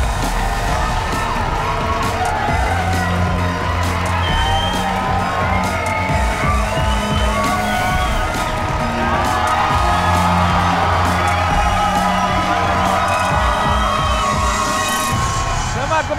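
Studio audience cheering, whooping and applauding on the Malaysian game show RM 1,000,000 Money Drop, a loud continuous crowd roar with shouts throughout, no speech over it.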